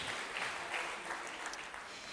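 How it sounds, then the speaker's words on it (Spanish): A church congregation claps for the King in worship, a full, even roar of hands that holds steady throughout, with faint voices mixed low underneath. "Ponga sus manos juntas, dele palmas al Rey."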